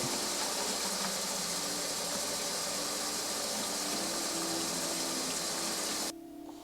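Tap water pours steadily into a film developing tank during a rinse, a loud continuous gushing rush close by that cuts off abruptly near the end.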